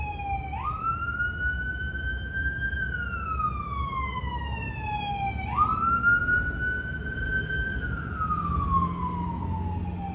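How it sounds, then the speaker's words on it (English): A wailing emergency-vehicle siren sweeps up and down in two long rising and falling cycles, steady and fairly close over low traffic rumble, with no voices. "Sirens."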